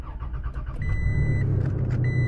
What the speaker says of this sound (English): We're going to start the truck up, see if it starts right up.